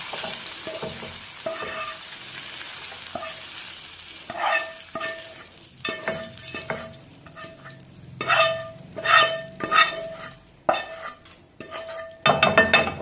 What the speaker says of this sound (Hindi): इस मिश्रण को हम हल्का सा ठंडा होने का इंतजार करेंगे। तो इसके लिए हम इसको एक कटोरी में ट्रांसफर कर देते हैं।